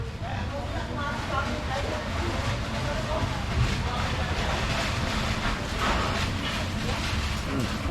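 Strong outdoor wind roars and buffets the microphone during motorcycle swing arm repair, a steady, loud rush with low rumbling gusts throughout.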